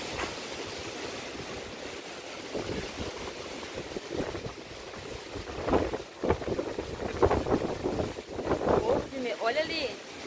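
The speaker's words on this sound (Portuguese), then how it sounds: "Não sei se dá para vocês verem a dimensão do vento, olha." Strong storm wind gusts across a lagoon, roaring and buffeting the microphone in uneven surges, with people talking under the rushing air.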